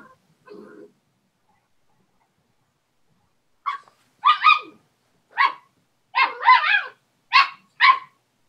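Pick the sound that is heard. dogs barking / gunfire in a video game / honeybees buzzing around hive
dogs barking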